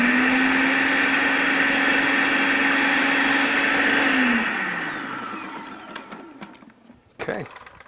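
A blender purees jalapeno, carrots, celery and seasonings for curry pumpkin soup, whirring at a loud steady pitch for several seconds, then winding down into silence before a brief clunk.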